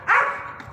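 A single short bark from a large guard-type dog outdoors, loud and close, followed by a fading tail of low rumble and background noise.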